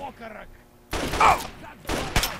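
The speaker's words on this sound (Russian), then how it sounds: "У него револьвер, судя по звукам." Revolver gunshots from the video game Fallout 3, firing as single shots: loud broadband bursts from about one second on, one near the end especially sharp, after a quieter stretch of game ambience.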